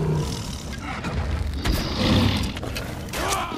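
A lion roars in the Far Cry Primal video game, a deep rumbling growl that swells and fades over several seconds among low booming ambience, with no talk.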